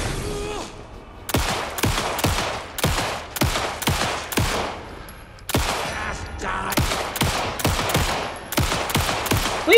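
Rapid gunfire in the Alan Wake 2 video game, a long run of loud evenly spaced shots with a brief pause partway through, close and dominant throughout.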